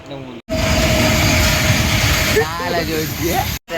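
A train rushes past at close range, a loud steady roar of rail noise filling most of the clip before cutting off abruptly, with voices talking over its later part.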